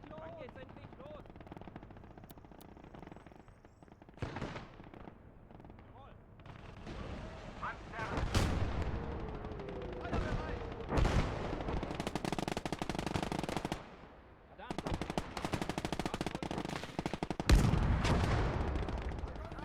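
Gunfire in the Gates of Hell war game: bursts of machine-gun fire and heavy shots in irregular clusters, some loud and close, others more distant, with battle rumble between the bursts.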